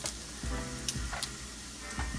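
Grits in a pot stirred with a spoon, with soft rhythmic scrapes and taps against a low bubbling simmer, close and quiet with no talking.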